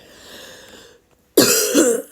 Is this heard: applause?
no